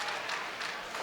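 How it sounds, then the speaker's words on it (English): Bowling crowd at a senior masters match cheering and clapping after a split in the tenth frame, a steady wash of distant applause filling the short stretch. "Here's some cheering down there."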